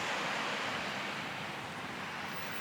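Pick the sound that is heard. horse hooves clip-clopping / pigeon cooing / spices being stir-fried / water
water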